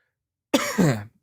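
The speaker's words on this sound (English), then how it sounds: "I got a little bit of a cough today" A single close, hoarse cough with a raspy throat-clearing quality, about half a second long, alone against silence.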